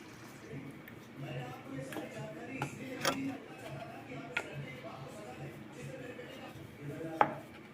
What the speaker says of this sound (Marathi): मी इथं असे छोटे छोटे तुकडे करून टाकत आहे